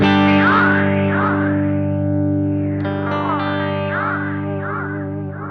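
An Alexander Superball dynamic delay pedal shapes a sustained, distorted, harmonically rich tone into swirling, sweeping repeats with chorus-like modulation and echo, loud and continuous throughout with no talking.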